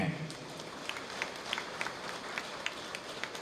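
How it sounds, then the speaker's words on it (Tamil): An audience at a Tamil book launch and astrology event claps in scattered, uneven bursts, faint and somewhat distant, with a speaker's voice running over the room. "கைத்தட்டுங்க உங்களுக்கு."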